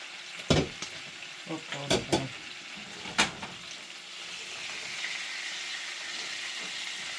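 Battered squirrel deep fries in hot oil, a steady loud crackling sizzle close by, opening with several sharp clanks and knocks from handling the pan before settling into continuous bubbling.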